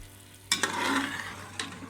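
Onion and garlic sizzle in oil with stirring in a pan, a steady hiss broken by a few scraping clatters of a spoon, close and moderately loud.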